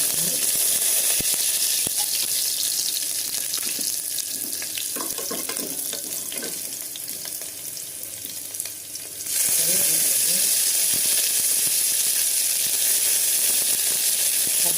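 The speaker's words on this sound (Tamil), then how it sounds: "எண்ணெய் காஞ்சிடுச்சுங்க கொஞ்சோண்டு பெருஞ்சீரகம் போட்டுருக்குறேன் மூணு பச்சை மிளகா பூண்டு" Fennel seeds, three green chilies and garlic sizzle steadily in hot oil in a pressure cooker, a dense crackling hiss that runs throughout with faint stirring clatter. The sizzle dips briefly and then surges back louder.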